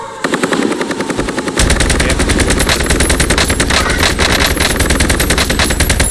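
Machine gun fire in a battle royale video game: rapid, loud bursts of automatic shots, first as shorter crackles and then as a sustained, even stream of rounds for several seconds, with no talking.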